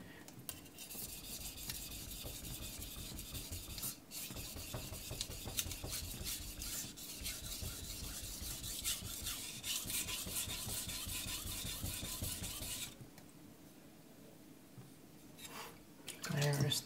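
An aogami carbon steel knife is stroked along a whetstone, steady wet rasping and rubbing strokes running close and continuous for about thirteen seconds before dropping away to near quiet.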